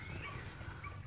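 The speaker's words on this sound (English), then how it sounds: "And that's Connor, 15-month-old working springer." A 15-month-old working springer spaniel whimpers softly in a thin high whine over a low rumbling background, faint and continuous with no talk.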